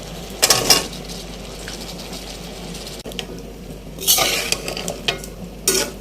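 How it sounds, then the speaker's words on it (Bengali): Long beans fried with large prawns in a pan, with intermittent bursts of scraping and clattering stirring over a steady low sizzle. "বরবটিটা একটু কষে নিক।"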